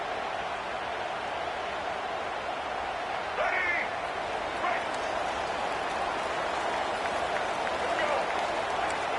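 A home crowd cheers in an NCAA college football video game, a constant broad roar of stadium noise with a few brief whistles and shouts rising above it, while a commentator talks over it.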